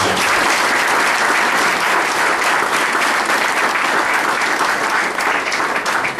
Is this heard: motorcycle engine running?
no